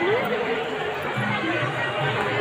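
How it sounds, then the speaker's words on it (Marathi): Dense, steady chatter from a large crowd at the Tuljapur temple, heard from the temple steps, with many overlapping voices blending into a continuous murmur and no single speaker standing out. "भरपूर गर्दी आहे, एकदम फुल."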